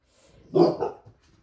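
A dog lets out one short, close bark with a brief growly tail, alone in an otherwise quiet room.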